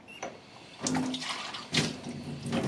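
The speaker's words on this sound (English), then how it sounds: "If you're using something with water, you dump the water out" Water dumped out of a container during classroom cleanup, heard as a couple of splashing, gushing pours with faint clinks between them, moderately close.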